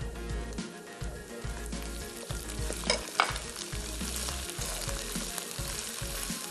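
Browned onions fry with ginger garlic paste and green chili paste, giving a dense, continuous sizzle broken by steady, rhythmic stirring scrapes.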